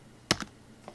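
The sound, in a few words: typing a value on a computer keyboard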